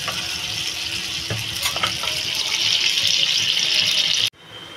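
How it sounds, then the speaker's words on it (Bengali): Water poured into a hot pan for a Bengali fish curry with pabda fish and prawns, a steady rushing splash over sizzling that cuts off abruptly near the end. "এবার জল ঢেলে দেবো।"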